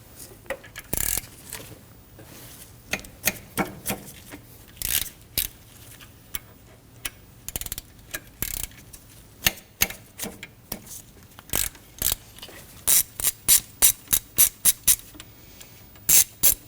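A ratchet wrench turning a 12mm tensioner bolt on a 2003-2006 Subaru Baja 2.5L H4 engine, with bursts of sharp clicks in irregular runs that quicken into a fast regular series near the end.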